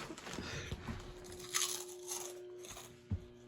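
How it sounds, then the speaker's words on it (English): Metal crunching and grinding from an Emerson 1895 electric fan, heard as rough crackling bursts over a steady motor hum, with a sharp louder crunch near the end. "That's pretty loud, but I don't think anything is louder than metal crunching."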